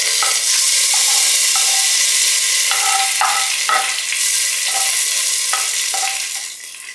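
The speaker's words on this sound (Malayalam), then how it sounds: "അപ്പോൾ ഞാനിത് കറിക്ക് ഒഴിച്ച് കൊടുക്കുകയാണ് കേട്ടോ" Hot tempering poured into a pot of green gram curry sets off a loud, steady sizzle and crackle, with short bursts of spoon stirring and scraping against the pan that fade slightly near the end.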